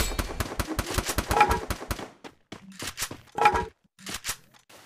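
Gunfire in the battle-royale game Free Fire: dense, rapid automatic shots for about two seconds, then shorter scattered bursts with brief gaps, loud and close throughout.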